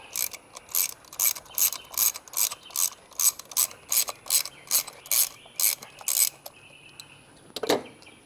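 A ratchet with a 5/8 spark plug socket removes a spark plug from a Hyundai Elantra engine, giving a close, crisp series of about fifteen evenly paced clicking strokes, followed by a pause and a final metallic knock.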